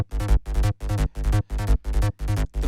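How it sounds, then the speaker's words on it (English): A lone three-oscillator Spire synth bass plays short, buzzy repeated notes in a steady rhythm, each phrase cutting off cleanly before the next, dry and close. "The bass line is from Spire, and it's got 3 oscillators."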